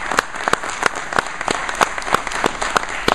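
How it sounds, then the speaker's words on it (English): An audience applauds Brother Hines at a Project ENRICH event, steady clapping with sharp individual claps standing out, loud and continuous from start to finish. "Please give Brother Hines a round of applause."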